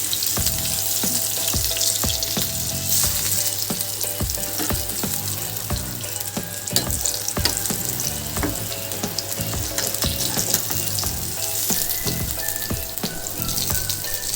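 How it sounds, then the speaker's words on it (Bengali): Steady loud sizzling of eggplant frying in a wok, with occasional clinks and scrapes of a utensil stirring throughout, no voices. "বেগুন আমার মোটামুটি ভাজা হয়ে গেছে এবার আমি তুলে নেব কড়াই থেকে"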